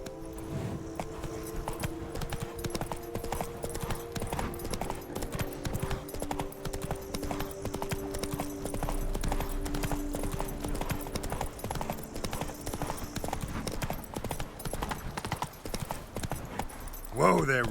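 Roach the horse gallops in The Witcher 3: Wild Hunt, a steady rapid clip-clop of hooves running throughout under a droning game soundscape, with a voice speaking briefly.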